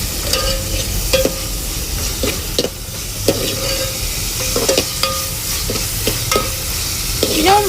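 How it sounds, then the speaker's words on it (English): Khichdi frying in a pan, sizzling steadily while being stirred, with repeated scraping strokes of the spoon throughout; loud, close and continuous, no talking. "you can see it's starting to sizzle up nicely"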